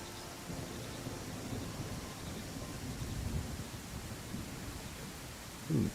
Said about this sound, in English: Wow, this is a real big thunderstorm.